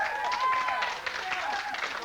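A studio audience applauds on a television lunchtime chat show, with a steady patter of many hands clapping that stays level across about two seconds.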